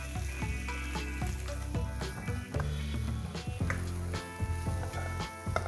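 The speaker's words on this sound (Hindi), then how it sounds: "प्याज को हल्का सा सौते किया" Roughly chopped green onion bulbs sauté in hot oil with spices, a continuous close sizzle with faint stirring beneath a layer of tonal background music.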